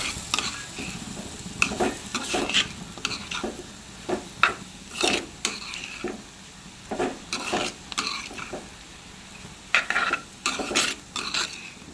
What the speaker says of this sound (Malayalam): കക്ക തട്ടിയിട്ട് നല്ല രീതിക്ക് ഇളക്കി വെക്കാം